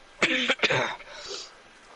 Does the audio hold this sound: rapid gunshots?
no